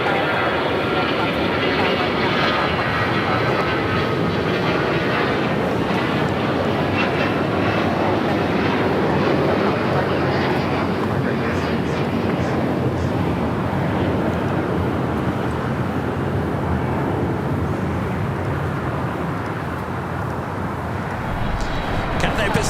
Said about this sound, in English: Air Canada A321 heading to Toronto, flight 786, now rolling down at 25 right.